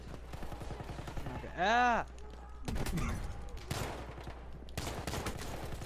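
Gunfire in Battlefield 1, a loud burst of shots followed by further gunshots and a distant rattle, with a voice talking in between.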